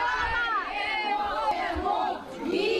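A crowd waiting outside a hospital greets arriving freed soldiers, many voices calling out and cheering together in a loud, continuous swell of shouts.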